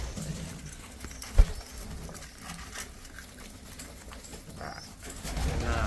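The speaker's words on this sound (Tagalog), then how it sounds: "Nakakit natin kalapate." Pigeons cooing softly in a loft, low rolling coos with a sharp single knock early on and faint rustling around them.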